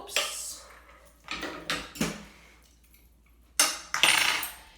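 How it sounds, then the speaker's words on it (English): Pasta being stirred into courgettes in a pan, with clinks and scrapes of a utensil against the pan in several close bursts separated by short pauses. "Pasta into the courgettes. Stir that,"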